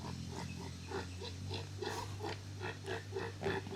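A pig grunts in a steady series of short, close oinks over a low background hum, with no talk.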